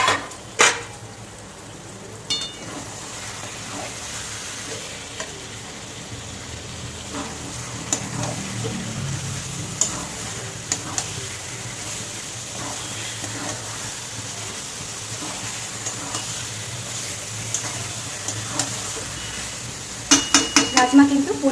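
Cut potatoes go into a pan for a Bengali rajma and chicken dish, sizzling steadily while a spoon scrapes and stirs against the metal, with clinks and clatter sharpening near the end.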